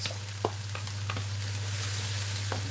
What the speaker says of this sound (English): We're just going to saute them down for a little bit.